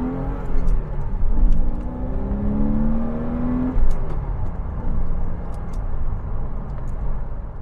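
A 2004 Porsche Boxster S 550 Spyder Special Edition flat-six pulls onto a main road, engine note rising steadily under load with a continuous road and wind roar from inside the car.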